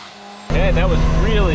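A rotary-engined Corvette on a dyno bursts from quiet into a loud, buzzing rev and hits its boost limit, its harmonic whine wavering up and down for about a second.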